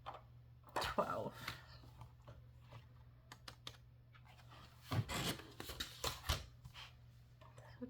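A scratch-off lottery ticket being scratched, close up, with short bursts of dry rasping scrapes separated by pauses.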